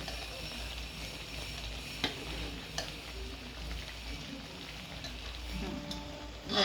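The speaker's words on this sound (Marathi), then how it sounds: "इकडे उबाला आलेला आहे खिरीला" Kheer, a rice pudding, simmering and bubbling in a pot, giving a steady soft sizzling hiss with a few faint clinks, nearby and moderately quiet, no talking.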